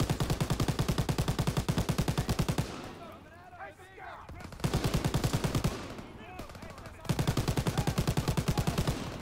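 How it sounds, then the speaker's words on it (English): Machine gun in the Call of Duty WWII game firing long, rapid, loud bursts of evenly spaced shots, split by two pauses in which battle noise and shouting voices can be heard. "Give me the machine gun."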